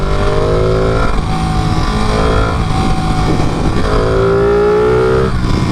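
A Ducati Panigale 959 motorcycle engine in race mode roars loud and close, a steady high-revving drone with rising pitch sweeps as it accelerates, no talk.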